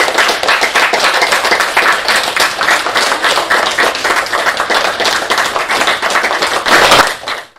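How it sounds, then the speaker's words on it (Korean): A gathered audience claps continuously for a dharma brother from Fujian, dense hand-clapping at a steady level that cuts off abruptly near the end. "给福建的师兄鼓掌。"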